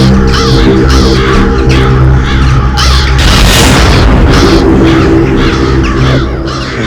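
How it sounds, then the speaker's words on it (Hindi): Dense, loud cawing of many crows layered over a heavy booming rumble, with a surge of noise in the middle. "इतने सारे कौवे इस वक्त?"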